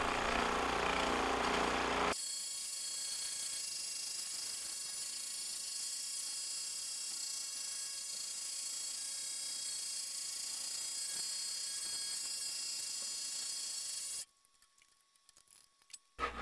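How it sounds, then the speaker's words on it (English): Scroll saw fitted with a fine tooth blade cutting a play-button shape from pine, a steady buzzing whine with a constant hum, running continuously for about twelve seconds before stopping abruptly. "So cutting out the play button with the scroll saw goes relatively quick."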